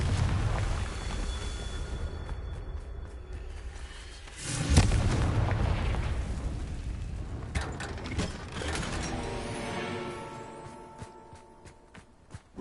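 A Confringo blasting spell goes off in the video game Hogwarts Legacy: a heavy booming burst near the middle, then a crackling, rumbling tail and sharper thuds over a constant low game rumble, with no voices.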